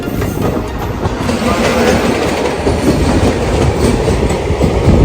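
A Shatabdi Express passenger train rushes past at close range on the way toward Malda, a loud steady roar of rolling wheels with rhythmic clickety-clack of carriages over rail joints, sustained throughout without voices.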